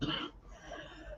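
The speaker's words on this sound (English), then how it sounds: "I smoked cigarettes this week and I'm coughing." A short, quiet burst of smoker's coughing at the start, followed by soft breathy sounds and faint background hum.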